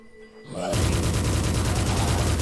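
Plasma gun blasting in the Lovecraftian indie shooter Forgive Me Father, a quiet lead-in giving way at once to a loud, rapid, continuous stream of pulsing shots that runs to the end.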